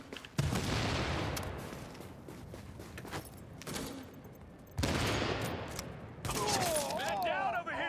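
Dense gunfire in a video game crackles and rattles in sustained bursts, loud and close, with brief lulls between volleys and voices talking over the shooting.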